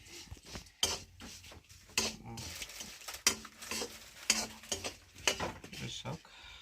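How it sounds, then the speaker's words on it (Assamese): Mahura pitha fries quietly in a pan with a soft sizzle, broken by sharp intermittent scrapes and clinks of a utensil against the metal. "এনেকৈ এইটো এনেকৈ ভাজিছোঁ"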